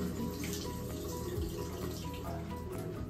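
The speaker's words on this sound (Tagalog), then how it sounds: "So, itong sliced carrots. I-drain ko lang." Water runs and trickles as sliced carrots are drained in a kitchen, a steady faint splashing flow with no one talking.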